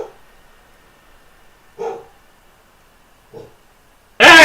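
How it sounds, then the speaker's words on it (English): A dog barks in short bursts, two muffled barks a couple of seconds apart followed by a louder, sharper one close by at the very end, with quiet room noise in between. "That fucking dog, I swear."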